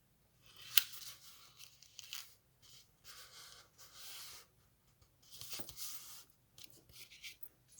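Designer paper cardstock is folded over for a tower card, giving faint, close crinkles, slides and soft creasing scrapes in short separate bursts, with a sharp tap near the start.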